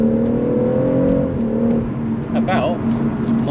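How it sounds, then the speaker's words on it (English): A 2017 BMW M140i straight-six engine revving, its note rising and then settling into a steady drone, close and loud, with a voice speaking over part of it. "A little bit of straight six raw to start the video."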